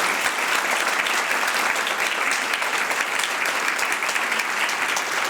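A conference audience at a career guidance event bursts into dense, steady applause that holds at full strength from start to finish, with no voices rising above it.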